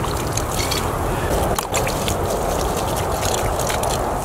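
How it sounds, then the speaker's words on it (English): Water poured from a container over the roots of a cut Christmas tree being replanted outdoors, a continuous splashing and trickling wash with scraping texture, close and fairly loud throughout. "A little flow water in there."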